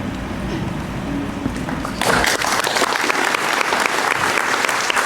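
Graduation crowd bursts into loud, sustained applause for honor students at the 2025 Oak Grove ceremony, dense clapping starting abruptly after a quieter stretch of room murmur.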